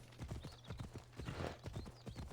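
A horse gallops in Assassin's Creed, its hooves pounding in a fast, even clip-clop rhythm under a faint steady game ambience.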